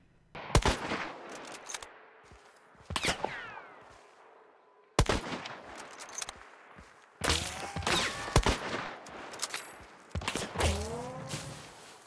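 Gunfire in Hunt: Showdown: sharp, loud shots in irregular clusters, some fired in quick succession, each ringing out with a long echoing tail across an open outdoor setting.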